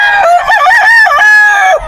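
A stag rooster, about nine months old, crows once loudly and close at a pet market, a single drawn-out cock-a-doodle-doo that breaks off sharply at the end.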